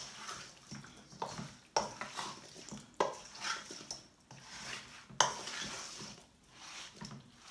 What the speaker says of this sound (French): on va touiller tout ça